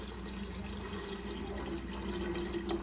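Water pours in a steady, gentle stream into a pot for cooking prawn biryani rice, continuous and fairly quiet throughout.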